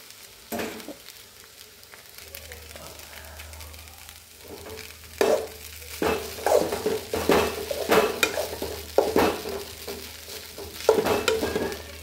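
Onions and ingredients for poha sizzle in a pan while a metal spoon stirs and scrapes against it in repeated clatters, growing busier as cooking goes on, close up and with no talking.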